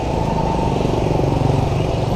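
Motorbikes and cars roar past on a busy road with no sidewalk in Chalong, Thailand, a loud, close, continuous engine drone with slight surges as vehicles go by.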